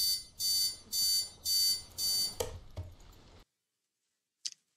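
An alarm clock rings in rapid loud beeping bursts, four regular pulses close by, then a clatter as it is switched off, followed by silence and a single faint click.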